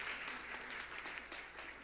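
Applause from a congregation during a Sunday morning church service, a soft, steady patter of many hands clapping that continues at an even level for under two seconds.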